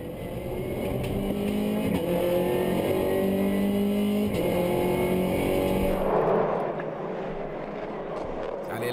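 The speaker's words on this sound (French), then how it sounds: "On est à bord de la voiture de Jean-Marie." Loud, steady roar of a Peugeot RCZ racing engine heard from inside the car at Circuit Paul Ricard, Le Castellet, holding high revs before dropping off as the gears change.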